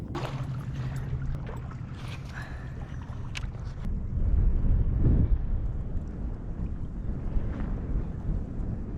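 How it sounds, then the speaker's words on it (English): Wind gusts over an open-water fishing boat in early spring, making a steady low buffeting rumble on the microphone. It swells louder partway through, with faint knocks and small rattles from the boat. "Wind's kind of picking up here, so might be a little bit less footage"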